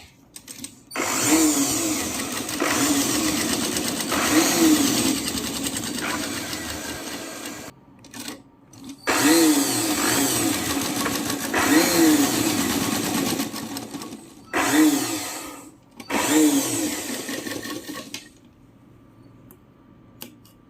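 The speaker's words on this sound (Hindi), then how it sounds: "1/2 इंच पे ही पूरी सीधी सिलाई करेंगे। तो सीधी सिलाई करके" A sewing machine runs a straight half-inch stitch along a French seam in bursts of steady, rapid whirring, stopping briefly between runs with short pauses of near-quiet.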